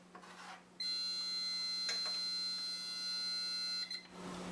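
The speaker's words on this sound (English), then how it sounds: "Alright, so there's our timer." A phone timer alarm sounds steadily for several seconds, a loud, sustained electronic buzzing tone with a brief interruption partway, then cuts off. It goes off during home brewing of an IPA.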